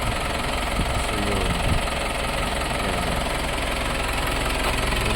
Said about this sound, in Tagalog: Ito yung tunog niya kapag nag-start na.